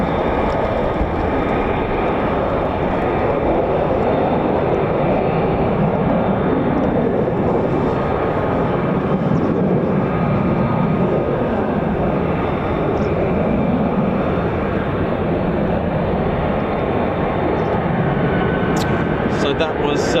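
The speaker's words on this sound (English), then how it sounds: "I absolutely adore the F-35. It is just an absolute pleasure. It's so agile," An F-35 fighter jet roars overhead at RAF Lakenheath, a loud, sustained broadband engine rumble that holds steady for the whole stretch, with no talk over it.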